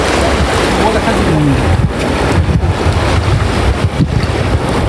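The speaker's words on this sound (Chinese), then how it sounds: "背后的海浪声噪音很大。" Ocean waves and wind on a beach make a loud, constant roaring rush, with gusts buffeting the microphone throughout.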